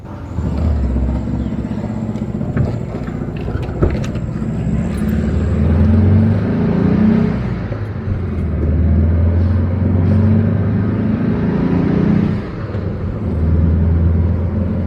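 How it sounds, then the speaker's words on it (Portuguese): A VW Beetle driving with a suspected worn wheel bearing, giving a low rumbling road drone that swells and eases over several seconds, with a faint whirring running underneath and no talking. "Ele rosa um pouco, parece que é o rolamento da roda."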